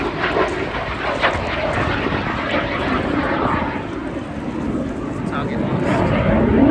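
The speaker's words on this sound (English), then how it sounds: "So David John Gibbs in the Mark V, a jet provost." A Jet Provost Mark V jet aircraft passes at an air display, its broad, steady engine roar filling the scene and swelling slightly toward the end, with crowd noise and speech mixed in underneath.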